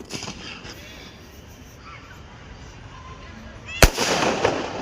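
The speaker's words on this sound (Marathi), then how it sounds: "हे बघा त्यांची झालेली आहे 31ची बॉम्ब फोडे झालेले" Firecrackers go off at a New Year's Eve celebration: scattered distant pops, then one loud, sharp bang followed by a sustained crackling burst, with a voice talking over the scene.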